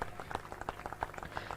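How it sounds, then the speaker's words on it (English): Audience clapping for the brand ambassador at a cricket tournament grand finale, a brief burst of quick, fairly loud claps with a steady dense patter underneath. "One big round of applause."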